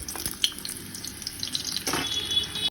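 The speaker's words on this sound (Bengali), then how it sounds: "এবার লুচিগুলো জাস্ট ঝপাঝপ করে ভাজবো" Luchis, puffed flatbreads, fry in hot oil with a steady close sizzle and bubbling that carries on throughout, with faint splashy surges and no talking.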